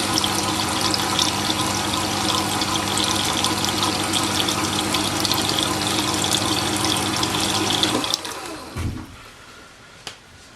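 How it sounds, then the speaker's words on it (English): Jet wet sharpening machine with its stone turning through water, a steady close splashing, rushing wash for about eight seconds, then it cuts off, leaving faint drips and one small click. "Now the stone sucks up the water and gets really wet"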